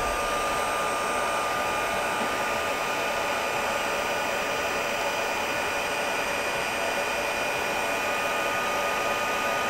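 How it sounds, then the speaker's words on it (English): A heat gun warms up for copper embossing powder on a card-making craft table, giving off a steady, loud, continuous airy blowing roar with a faint whine that holds unchanged throughout with no talking. "let me heat the heat gun up below me"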